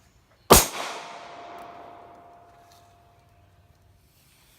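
A single sharp gunshot from a Springfield Armory 1911 EMP 4 9mm pistol at a shooting range, loud and close, with a long ringing decay afterward and the start of another shot at the very end.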